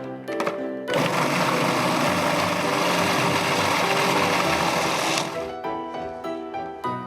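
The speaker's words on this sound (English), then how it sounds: "then whiz it into a fine puree" A food processor whirs loudly for about four seconds, blending raw vegetables with pepper and salt into a fine dip puree, starting abruptly and stopping cleanly, with no talk during the run.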